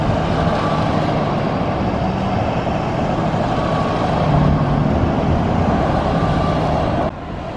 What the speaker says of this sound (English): It's a lot of school buses.